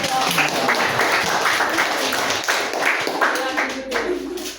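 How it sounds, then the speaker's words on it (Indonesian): Classroom applause for a student group after a question session, a brisk mix of hand claps with some louder close claps, voices and a bit of chatter underneath, tapering toward the end. "Berikan tepuk tangan untuk"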